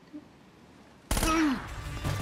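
Gunfire in the video game Uncharted: Drake's Fortune, a sudden loud burst of shots after a quiet start, with a ringing tail and a few further cracks trailing off.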